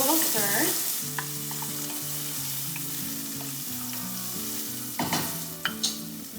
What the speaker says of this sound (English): Once the zucchini has browned on the first side, give it a little stir.